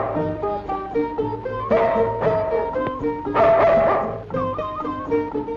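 A dog barks repeatedly in short yipping bursts mixed with whimpering, loud and close, set over a film's background music with no speech.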